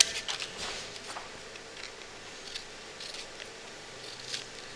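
Scissors snip through paper while cutting out a traced circle for a maquette: a run of quick, faint, irregular cuts close by with no talking.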